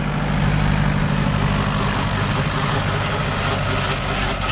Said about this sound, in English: Dad is out with the Hey Bob on the Ford 7600